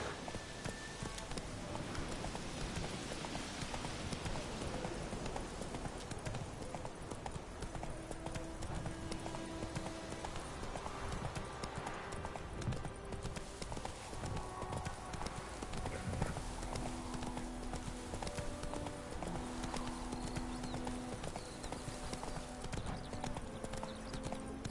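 Horse hooves clip-clop steadily and rhythmically throughout Witcher 3 gameplay on PS5, close and continuous beneath a layer of in-game music.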